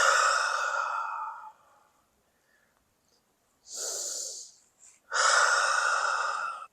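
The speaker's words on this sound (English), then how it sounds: "And we're just going to breathe." Slow, deep breaths during a yoga session on sand: a long exhale, a pause of silence, a shorter breath, then another long exhale, close and clear with no talking.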